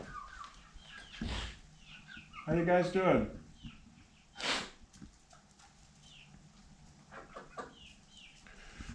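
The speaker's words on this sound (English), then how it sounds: "Hello, chickens." Farmyard chickens cluck near a farmhouse in a few short, sharp bursts between quieter stretches, with a person greeting them over the birds.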